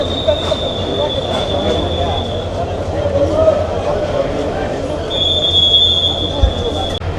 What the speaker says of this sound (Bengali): আমাদের ট্রেন চট্টল এক্সপ্রেস বিমানবন্দর রেলওয়ে স্টেশন সারে চলে যাচ্ছে